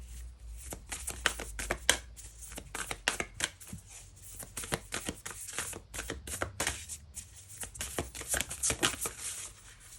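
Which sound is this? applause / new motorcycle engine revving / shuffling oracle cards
shuffling oracle cards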